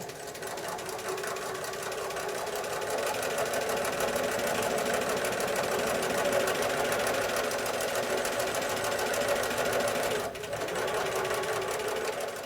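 Sewing machine running steadily while piecing a pinwheel quilt block over pins, a continuous close whirring drone that pauses briefly near the end before resuming.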